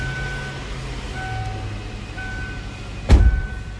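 A 2002 Ford Thunderbird convertible engine hums steadily at a low idle, then gives a brief, louder rough burst near the end.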